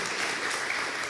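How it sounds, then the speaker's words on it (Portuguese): A church congregation in the Templo de Salomão claps together, a soft, even wash of many hands heard briefly and at a distance with no voices over it. "Se é para o Senhor, pode aplaudir, porque Ele merece."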